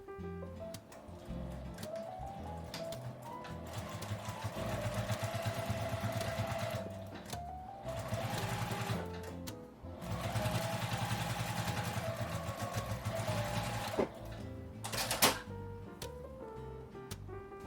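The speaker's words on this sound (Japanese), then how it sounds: "端を縫います。" A sewing machine stitches along the edge of a fabric tissue box cover in several bursts of rapid, rhythmic mechanical whirring, each run separated by short pauses.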